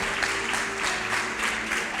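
A church congregation applauding, a steady, dense clapping of many hands at moderate distance that lasts the whole short moment, with an organ or keyboard tone sustained underneath.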